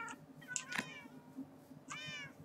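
Cats meowing in a Minecraft modpack game, a few short meows spaced across a couple of seconds, fairly close and clear over a soft ambient background.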